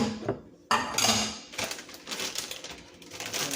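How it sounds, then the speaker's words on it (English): Bacon and onion tumble into a pan of potatoes with a sudden metallic clatter, followed by scraping, clinking utensil sounds against the pan at moderate volume. "So now we're going to add the rest of our bacon and onion."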